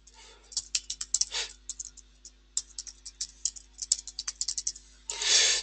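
Fast bursts of keystrokes on a computer keyboard as a project name is typed into a project-management app, crisp clicks in quick uneven runs with short pauses, close and fairly quiet, ending in a louder rattling burst.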